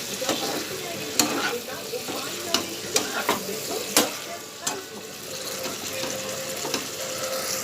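Eggs sauté for curry in a hot pan, giving a steady sizzle with repeated sharp clinks and scrapes of a spoon stirring against the pan.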